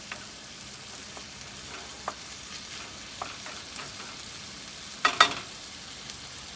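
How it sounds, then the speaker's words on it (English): Ingredients for fried rice simmer quietly in a pan on a Weber Spirit II E320 gas grill side burner, a faint low sizzle with occasional soft clicks and a short burst of stirring and scraping near the end. "I'm just going to mix these in and then let it simmer."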